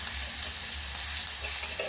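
Curry leaves go into hot tempering oil with green chilies, giving a steady bright sizzle and quiet crackling, with faint stirring underneath.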